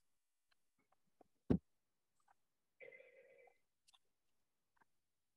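A telephone rings once during a Council on Aging meeting call, a short two-tone electronic trill in near silence, surrounded by a few faint clicks and a sharp knock.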